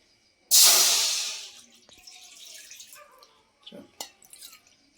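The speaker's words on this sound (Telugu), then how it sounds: "2 గ్లాసెస్ వాటర్ పోసుకుందాం" Two glasses of water poured into a pan on the stove for upma: a loud, close gush of water splashing into the metal for about a second that then fades, followed by a few small drips and clinks.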